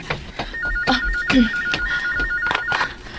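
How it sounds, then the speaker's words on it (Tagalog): A telephone rings with an incoming call, its repeated electronic trill sounding in short bursts over background noise and soft movement. "May nanawag."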